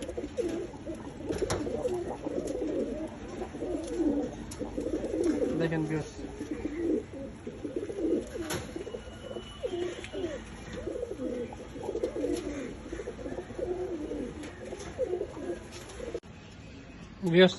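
A pair of pigeons, let out of their cage, coo in soft low rolling calls close by, repeating throughout while someone talks over them.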